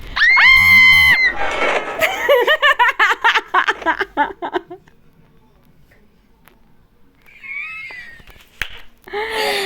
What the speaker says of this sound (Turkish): aynı anda çığlık attık